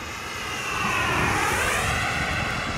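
HSD Super Viper RC turbine jet flying past, a loud continuous turbine whine with a sweeping pitch shift as it passes close overhead, no voices.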